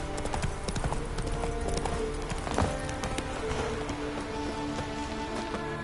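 Video game horse hooves clip-clopping steadily at close range, a brisk even rhythm of hoof strikes over a continuous hiss, with faint background tones and no speech.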